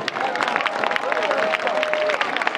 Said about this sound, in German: Einen kräftigen Applaus nochmal für Ludwig Sebus.